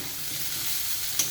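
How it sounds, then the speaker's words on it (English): Onion, garlic and ginger sizzle steadily in a hot pan for papaya bhurji, a dense, even frying hiss with one small clink of a utensil near the end and no talking. "So I am frying onion, I am frying garlic, I am frying ginger, right, into this."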